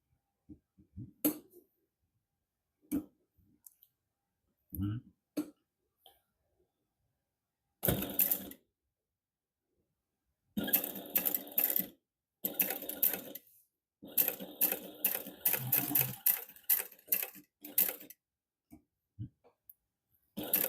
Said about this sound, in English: Here, when I go around the curves, I do 1 stitch and then I lift the foot up and I rotate.